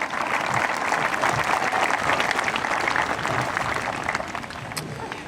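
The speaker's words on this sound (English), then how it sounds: "How about one more round of applause for Mr. Uzo Amuzi?" Audience applause at a Mattawan Regional High School 2025 graduation ceremony, a dense, steady roar of many hands clapping that holds for several seconds and eases slightly toward the end, with no talk over it.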